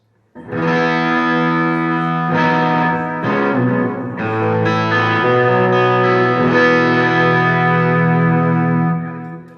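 An overdriven electric guitar on humbucker pickups, through a single-channel amp with no pedals, rings out loud and close, with sustained chords that shift a few times and hold, a gritty, saturated tone.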